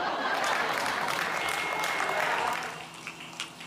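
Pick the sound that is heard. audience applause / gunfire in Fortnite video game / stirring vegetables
audience applause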